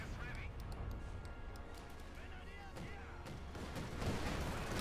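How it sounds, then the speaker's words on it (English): Artillery shells pound German Grenadiers in Company of Heroes 2. Muffled booms and crashes rumble repeatedly under a caster's ongoing commentary. "Bulldozer Sherman, they're bombarding the Grenadiers."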